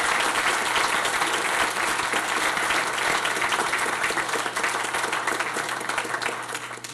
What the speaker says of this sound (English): how about a round of applause for all of your councillors for taking us through the years